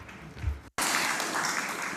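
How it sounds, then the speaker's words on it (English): An audience at an architects' celebration in Venice applauds the competition jury, a steady, moderately loud round of clapping that fills the hall after a brief cut, continuing evenly to the end. "I would like you to thank the jury with a round of applause"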